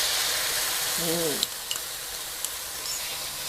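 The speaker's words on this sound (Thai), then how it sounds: "ผัดน้ำซอสให้ได้ที่เลย" Chili, garlic and sauce stir-fry in a pan in a Thai kitchen, a steady bright sizzle with a few sharp clinks of a spatula, and a brief voice-like sound early on.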